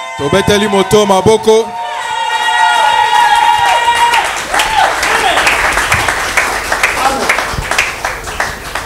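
Church congregation breaking into loud applause and cheering during a sermon, a sustained wash of clapping and shouts that rises and holds, with a voice speaking over it as it tails off.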